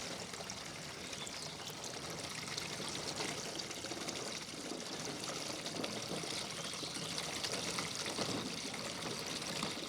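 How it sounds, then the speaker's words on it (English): Water bubbling and gurgling through a pipe as it fills a storage tank in a solar well drinking-water setup, a steady rushing flow with no pauses for about ten seconds and no voices. "I hear a fair amount of bubbling"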